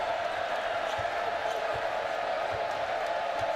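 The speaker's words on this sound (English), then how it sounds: "Crowd making noise here in Foster Pavilion." Crowd noise fills Foster Pavilion during a Baylor versus UTRGV men's college basketball season opener, a steady dense roar with faint ball bounces or thuds, heard alone without talk.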